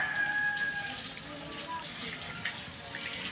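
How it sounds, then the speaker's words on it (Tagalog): Water pours and splashes steadily onto plants and soil, with faint voices somewhere in the background. "dinidilig po yung mga kanyang mga halaman"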